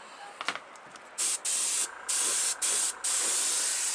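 A Testors Aztek airbrush run by a compressor set to 26 pounds sprays acrylic paint onto a model car body in several close, steady hissing bursts with short gaps between them.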